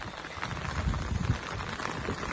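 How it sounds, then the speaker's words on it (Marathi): Heavy monsoon rain pouring down outdoors in a forest area, a dense continuous hiss of drops on surfaces with some low rumbling gusts, no talking. "जोराचा पाऊस आलाय"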